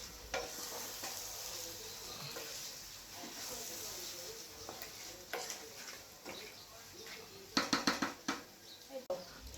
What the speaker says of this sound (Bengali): এখন আমরা মাখানো খাসটা এটার উপরে ছেড়ে দেব এবং ভালো মতন এটিকে নাড়িয়ে কষাতে থাকব